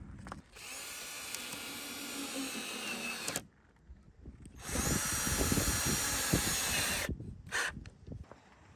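A cordless drill drives screws to mount plywood inside a van, whirring loudly in two long bursts of several seconds each, separated by a short pause, ending with a brief final burst.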